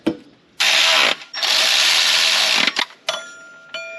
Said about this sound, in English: Now I can torque those bolts inside there,